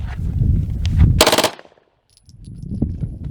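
A short, rapid burst of automatic gunfire rips out at a shooting range, five rounds blending into one loud, sharp volley that cuts off abruptly, with low rumbling noise before it and faint sounds after.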